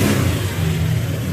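An all-stock used motorcycle with about 3,300 on the odometer runs its engine close by in a loud, steady, low rumble, with no voices over it.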